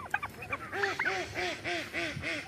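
Ducks quacking in a steady run of repeated nasal calls outdoors by village water, the birds fairly close and loud, some calls overlapping in a rhythmic series with a faint voice early on.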